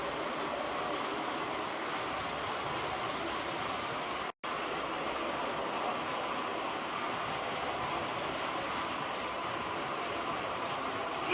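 An MTH R-40 slant subway model train set in New York City Transit livery runs continuously with a steady, dense rumble and faint rail clatter, up close and fairly even in loudness throughout.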